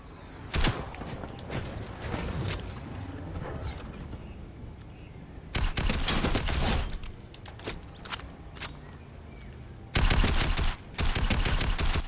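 Rifle gunfire in the video game Fortnite during a live event, sounding as dense bursts of rapid, loud shots in several volleys with short pauses between them, with no talk over it.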